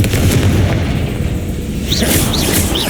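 Confringo blasting spell explosion in Hogwarts Legacy, a loud, deep booming blast that rumbles steadily for about three seconds, with brief bright whistling flourishes near the end.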